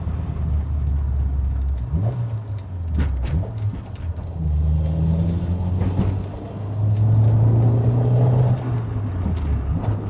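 A self-built 16-valve 4AGE engine in a 1985 Toyota Corolla AE86 with a six-speed, driving through a residential area: a steady low engine drone with pitch shifts as it revs up and eases off, close and continuous, with no talk.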